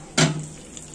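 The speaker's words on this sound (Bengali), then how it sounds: "একটু পানি দিয়ে নেই" Water splashes into a blended banana stem and raw jackfruit mixture in a hot pot, a single short hissing burst that fades quickly into quiet.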